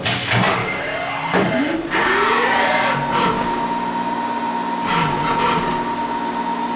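A Haas Super Mini Mill 2 vertical machining center runs a cycle, with whirring spindle and servo sweeps rising and falling, steady tonal hums, and brief indexing clunks, close and fairly loud without talk.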